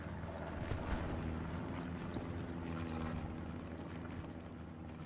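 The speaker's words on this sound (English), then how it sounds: "Hearing recon planes going overhead." Recon planes droning overhead in the Hell Let Loose World War II shooter, set on the Carentan map, a steady low propeller hum that holds through the whole stretch with no talk.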